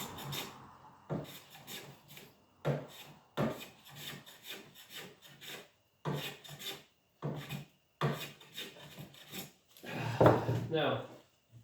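A hand plane set for a fine cut shaves the wooden surface of a chair in a series of short, soft rasping strokes with brief pauses between them, close by and fairly quiet.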